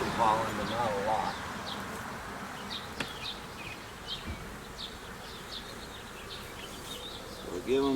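A honeybee swarm hums steadily around homemade hive boxes in a suburban yard, with a dense close buzz and individual bees whizzing past the microphone, while muffled voices sound faintly in the background.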